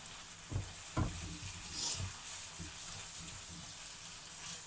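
Marinated pork steaks with Chinese seasoning frying in a pan, a faint continuous sizzle with a few soft knocks near the start, heard close but quietly.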